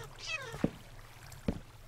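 A cat meowing in Minecraft, one rising-falling meow followed by two short sharp clicks or thumps, faint and close.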